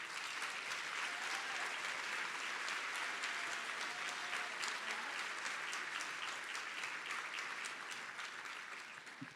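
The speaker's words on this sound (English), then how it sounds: "help me give a big round of applause to these individuals" Audience applause for honorees at a Marfan Foundation advocacy awards event, a steady, dense round of clapping from a large crowd that holds evenly for about nine seconds and only slightly thins at the end.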